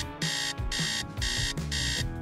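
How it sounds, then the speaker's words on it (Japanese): An electronic alarm clock rings in repeated bright beeping bursts, loud and close, about four pulses in quick even rhythm with no voices. "また目覚ましだ。"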